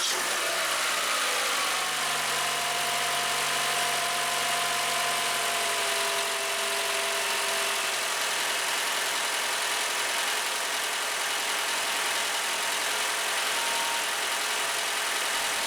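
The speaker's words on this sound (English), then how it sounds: "Let's start the car." A 2014 Toyota Camry LE engine idles at a quiet, steady hum with a faint whine easing down in the first few seconds after starting, then settling into a low, even drone.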